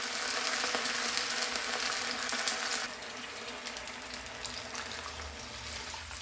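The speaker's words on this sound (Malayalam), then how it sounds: "ഇനി നമുക്ക് 1 ഗ്ലാസ് വെള്ളം കൂടി ഒഴിച്ച് കൊടുക്കാം" A glass of water pours into a pan while rava upma is being made, a steady loud gush for about three seconds that then continues more softly, with no talking.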